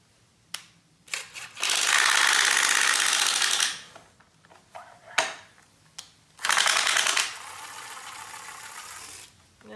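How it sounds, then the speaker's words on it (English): A power drill with a weakening battery whirs in two long bursts separated by clicks, clunks and handling noises while building a wooden TV stand top, the motor sounding strained and uneven. "it sounds like my drill's going dead"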